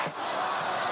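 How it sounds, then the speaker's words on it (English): A stadium crowd roars after a goal in an AFL match between the Gold Coast Suns and Brisbane Lions, a dense, loud, sustained wash of cheering from many voices that fills the whole second. "Wait for the roar from this crowd."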